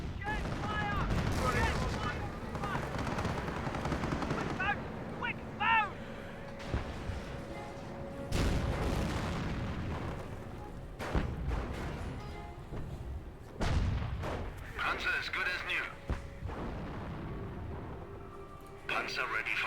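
Artillery fire in the World War II strategy game Company of Heroes, with booming explosions and rattling gunfire over a battle soundscape, while a voice talks throughout.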